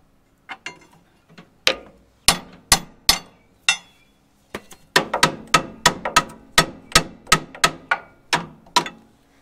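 Parking brake lever being pulled and released on a 1965 Allis loader, a series of sharp metallic clicks and clunks, a few scattered at first and then a fast, close run of ratcheting knocks.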